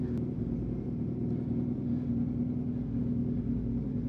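A motorcycle engine idling steadily after a cold start, a low continuous throb with a faint hum, close by and alone with no talking.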